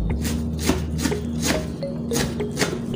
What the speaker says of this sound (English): it's quite easy to slice once it has been blanched